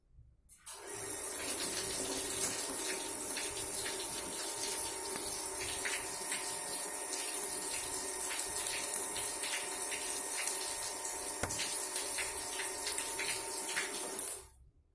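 Water runs steadily from a tap fed by a booster pump drawing from a storage tank, a continuous close splashing flow that starts and stops abruptly, with a faint pump hum beneath.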